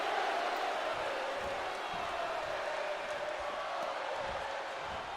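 Wrestling arena crowd in Orlando roars steadily behind a Sami Zayn match, a dense sustained cheer with scattered thuds from the ring and a commentator talking over it.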